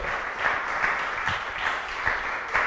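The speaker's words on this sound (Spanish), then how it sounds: "Dale el aplauso" Church congregation applauding with joy during worship: continuous crowd clapping with a loose, roughly regular pulse of stronger beats, steady and moderately loud throughout.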